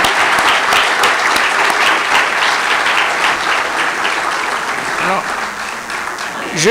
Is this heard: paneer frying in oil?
no